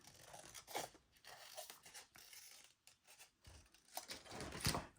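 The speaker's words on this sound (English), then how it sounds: "So maybe I'll cut out this one here." Scissors snip out a leaf shape from leftover patterned paper, quiet close-up crisp cuts and paper rustles in irregular bursts.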